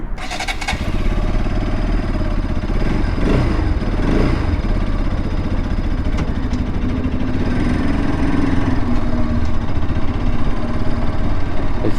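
Bajaj Pulsar RS200 motorcycle engine running steadily at close range, a loud continuous idle with a slight rise in revs partway through, heard alone without talk.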